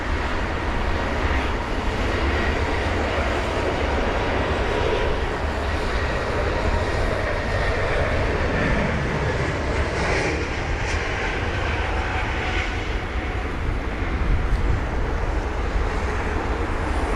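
A Lufthansa airliner departing London Heathrow for Salzburg in wet, spray-filled conditions, a loud sustained broadband roar of jet engines that holds steady throughout, with no talk.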